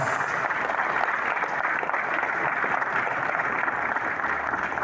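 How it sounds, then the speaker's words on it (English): A generous round of applause for the Ooni of Ife at a coffee-table book unveiling in Lagos, a dense, steady wash of many hands clapping that holds evenly throughout, moderately loud and without speech. "give him a very deserving, generous round of applause"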